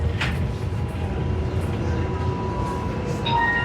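Inside a Doha Metro station, a train's low steady rumble and hum fill the space, with faint tonal whines and brief higher tones near the end, no clear talk.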